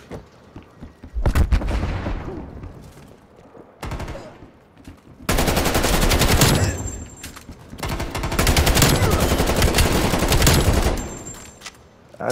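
Rapid automatic gunfire in Call of Duty: Cold War, loud sustained bursts broken by short pauses, with echoing reports and battlefield noise between the volleys.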